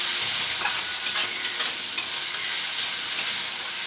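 Masala spices for a chicken and potato curry sizzle as they are stir-fried in a pan, a bright continuous hiss punctuated by sharp clicks and scrapes of a spatula, close and fairly loud, without speech.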